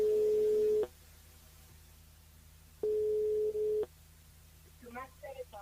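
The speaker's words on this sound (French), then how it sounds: "on appelle Coralie, et puis si jamais ça répond pas, on appelle les deux autres personnes" A telephone line rings twice during a live radio phone-in call, each long, steady tone lasting about a second and separated by silence, followed by faint voices answering.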